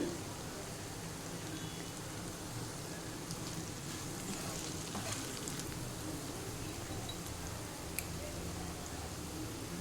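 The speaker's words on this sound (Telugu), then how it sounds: "వేసి హై ఫ్లేమ్ మీద కలుపుతూ ఉండాలి. బాగా వేయించాలి." Raw banana pieces fry over a high flame with turmeric, chilli powder, coriander and cumin powder, giving a steady, dense sizzle and crackle that runs throughout with no pauses.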